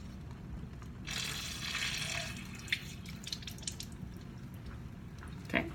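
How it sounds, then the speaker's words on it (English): Aquarium fish gravel being rinsed with water, a steady rush of running water with splashes and a few drips, close and moderately loud, with no talking. "you'll want a second layer of gravel on the top, rinsing it again"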